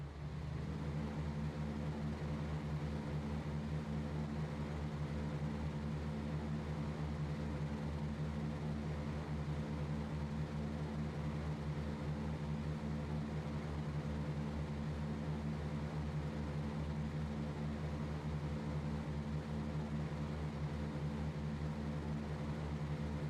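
A video-game aircraft sits at takeoff power, a steady droning engine hum with constant low tones that holds unchanged for over twenty seconds, fairly quiet and alone.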